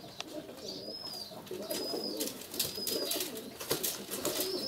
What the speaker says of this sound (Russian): Сизарь залетел.